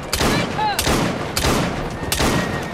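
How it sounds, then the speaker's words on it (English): Rapid bursts of gunfire in Assassin's Creed Syndicate as horses are shot, loud and close, with three or four sharp volleys spaced about a second apart and game sounds between them. "Forget it. I'm shooting the horses."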